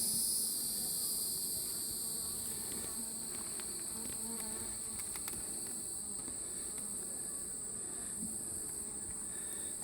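Honeybees buzz steadily and densely at close range while a hive is opened for inspection, the colony slightly agitated and troubled by hive beetles, with a continuous hum and no pauses throughout.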